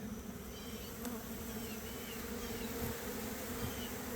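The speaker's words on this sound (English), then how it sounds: "that is a packed hive. That's probably 5 pounds of bees." A dense, steady buzzing of many honey bees in a packed hive close by, a continuous droning hum with no voices.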